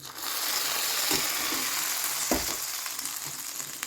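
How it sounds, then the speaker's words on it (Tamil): Roasted cashews sizzle in hot ghee for rice and lentil payasam, a steady close frying hiss with a few soft spoon knocks as the mixture is stirred. "இப்போ நம்மளோட வறுத்து வச்ச முந்திரியை இந்த நெய்யோடு நம்ம இப்படி சேர்த்துக்கலாம்."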